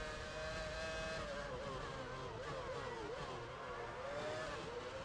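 A Formula 1 race car engine in the F1 Championship Edition video game drones steadily at high revs, the pitch wavering slightly through gear and throttle changes, continuous and fairly quiet throughout.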